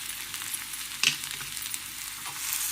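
Potato and garlic fry in a pan for zunka, a steady close sizzle with a brief stir clatter partway through.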